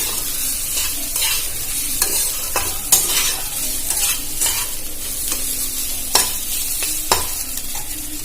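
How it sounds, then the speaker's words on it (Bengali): Chire pulao of flattened rice sizzles steadily in a hot pan while a spoon scrapes and stirs it, giving repeated soft scraping strokes and occasional sharp clinks against the pan. "আমি এটা এইভাবে নাড়াচাড়া করে নেব ভালো করে।"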